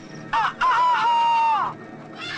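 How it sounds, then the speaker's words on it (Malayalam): A chicken gives one loud, drawn-out, crow-like call up close, rising and holding steady for over a second before trailing off, set within a comedy film scene with brief noise around it. "അതൊരു കോഴിയാണ് സാർ"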